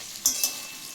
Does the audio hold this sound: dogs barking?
no